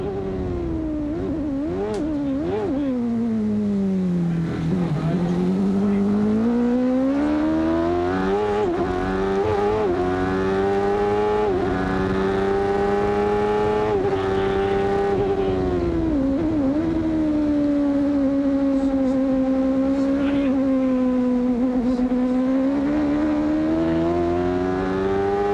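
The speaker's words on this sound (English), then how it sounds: "Scott Goodyear's engine there, and I think everybody can hear it" A 1993 CART IndyCar race car driven by Scott Goodyear at the Cleveland round roars continuously up close, its engine pitch dipping and climbing through gear changes and bumps with no voices over it.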